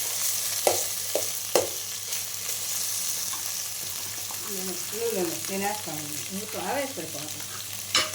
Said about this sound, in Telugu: అలా నూనె నెయ్యి కాగిన తర్వాత అడుగున కూర వేద్దాం